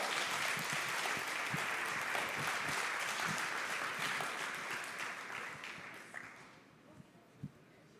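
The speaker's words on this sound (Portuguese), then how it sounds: "Dá uma salva de palmas ao Senhor." Church congregation applauding for the Lord, a dense sustained wash of clapping that gradually fades out, leaving a few scattered claps at the end.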